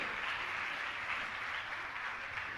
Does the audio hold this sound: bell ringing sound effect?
no